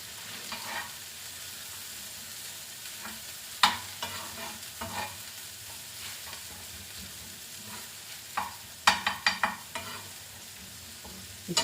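Green chillies being stirred into an egg mixture in a hot frying pan, with a low sizzle underneath and scattered scraping clicks of a utensil, a few sharp taps toward the end.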